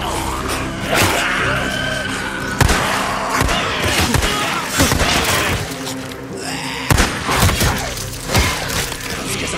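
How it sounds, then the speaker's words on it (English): A mine caving in within the video game Days Gone: heavy crashing and thudding debris with shattering bursts and a sustained rumble, loud and close, with short vocal outbursts mixed in. "You're bringing the whole mine down on us."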